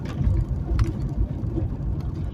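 Car on the road, its engine a low steady rumble with road noise from inside the cabin, continuous and moderately loud.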